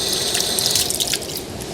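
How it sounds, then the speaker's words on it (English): Hands are washed under a running tap at a kitchen sink, a close, steady splash with water breaking and dripping over the hands. "And just wash my hands here."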